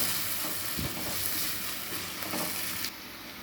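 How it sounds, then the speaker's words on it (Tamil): Onions sauté in a pan for pav bhaji, giving a steady, close sizzle with occasional stirring scrapes that runs continuously without any voices. "வெங்காயம் நல்லா வதங்கணுங்க"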